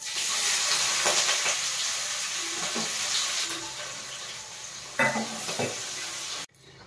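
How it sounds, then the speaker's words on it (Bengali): Chopped onions and sugar frying in the oil left from frying fish, with whole garam masala, cumin and dried red chillies, giving a steady close sizzle with faint stirring scrapes before it cuts off. "এবার ভেজে নেব পেঁয়াজটা।"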